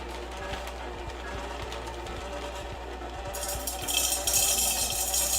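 A seed oil press crushes birdseed mixed with fruit and twigs, giving a steady mechanical whir with regular rapid ticking and clacking, growing louder and harsher near the end, with no speech.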